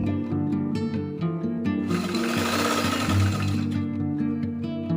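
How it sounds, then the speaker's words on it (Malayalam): A sewing machine stitches folded edges of cut cloth pieces in rapid mechanical bursts, with a denser whirring run in the middle, close and alone without talk. "ഈ ഞാൻ ആ വെട്ടി കഷ്ണത്തിൻ്റെ 2 സൈഡും ഒന്ന് ചെറുതായിട്ട് മടക്കി അടിക്കുവാണ്."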